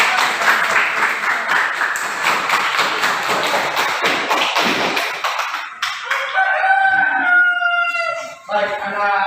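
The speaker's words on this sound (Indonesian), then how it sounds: "Berikan aplaus buat" Classroom applause: a loud, dense wash of many hands clapping for several seconds, then giving way to voices and a sharp crowing-like cry at the end.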